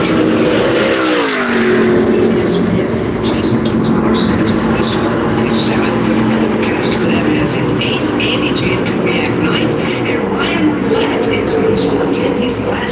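ARCA stock cars racing in a pack at Daytona, a steady loud engine roar with a descending pitch sweep as a car passes early on, continuous throughout under the crowd and track noise.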